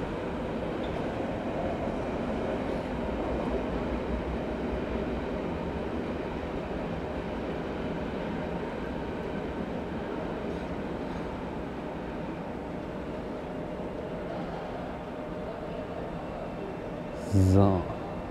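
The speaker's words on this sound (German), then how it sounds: "Hier ist da vorne die Berliner S-Bahn natürlich." Berlin S-Bahn train rumbling through Pankstraße station during renovation work, a steady low mechanical roar of wheels and motors held throughout, with a brief sharp squeal or tone near the end.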